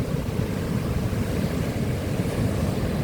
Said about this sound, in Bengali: আমার পেছনে এদিকে সমুদ্র